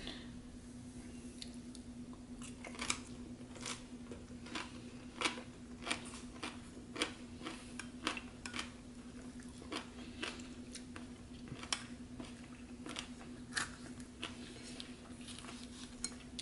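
Close, wet chewing of sliced Kiwano melon eaten with its skin, with soft squishy crunches repeating in an irregular rhythm over a quiet background hum.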